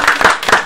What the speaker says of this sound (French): On peut l'applaudir, je crois.